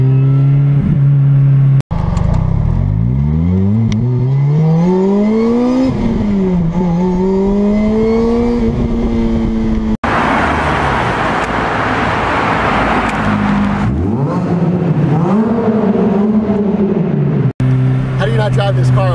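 A lightweight Lotus Exige S sports car accelerates hard through repeated gear changes, its engine note climbing in pitch and dropping at each shift, with loud exhaust roar and a burst of broadband noise mid-run.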